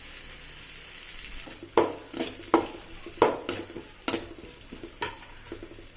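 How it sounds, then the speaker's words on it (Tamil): Tomatoes sautéing in a pan for a goat gut (kudal) gravy, a steady close sizzle with several sharp clinks of a spoon stirring against the pan, no voices. "தக்காளி நல்லா வதங்கணும்"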